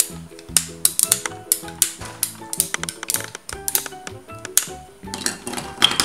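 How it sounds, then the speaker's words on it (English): Scissors snip fluff off a toy pet dog from a children's pet vet play set, giving a run of sharp, close clicks and snips in an irregular rhythm, with no talking. "Now I'm going to cut some of his fluff off."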